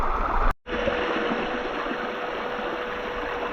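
Water from a stream pours over a small waterfall onto a bedrock bar, a steady loud broadband rush close by, with a brief cut near the start and no voices.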